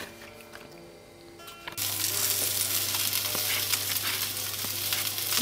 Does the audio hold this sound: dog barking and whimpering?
no